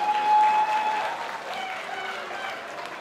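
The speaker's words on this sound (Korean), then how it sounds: "여러분 박수 부탁드립니다." An audience applauds at the award ceremony of a song contest as the gold prize is presented. A broad, steady wash of clapping is heard, with sustained musical tones ringing over it.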